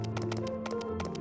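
Computer keyboard keys are pressed rapidly during a video game demo, a quick series of close, crisp taps over a steady background hum.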